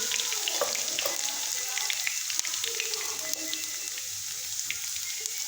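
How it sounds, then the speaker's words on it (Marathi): Crushed garlic and cumin seeds sizzle steadily in hot oil for a tempering, a close continuous frying hiss dotted with small sharp pops and crackles as the seeds splutter. "लसण पा गोल्डन ब्राऊन झालेला आहे जिरे पण तडतडत आहेत"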